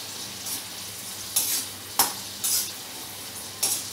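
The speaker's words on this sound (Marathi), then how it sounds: "जरा तळताना सांभाळून, कॉर्न टाकलेले आहे, एखाद्याला एखादा दाणा फुटू शकतो" Corn kernels fry in oil with a quiet, steady sizzle, punctuated by about five short scraping stirs against the pan at irregular intervals; no one speaks.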